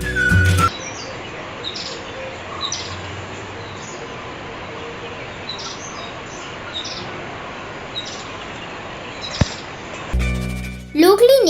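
A thick-billed flowerpecker in Sri Lanka gives short, high, ticking calls at a steady rhythm of roughly one every second or two. The calls sit over a constant hiss of forest background noise, with a few louder bursts at the start and end.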